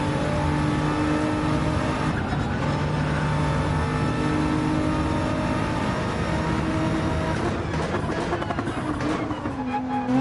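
Nissan GT-R race car in the Gran Turismo video game, a continuous high-revving engine drone with tonal harmonics, shifting pitch as it brakes and accelerates, loud and close with no talking.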